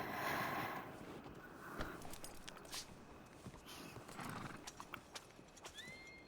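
Horse hooves clip-clop steadily while pulling a large cart in Red Dead Redemption, with a whinny near the start and the clatter running on throughout.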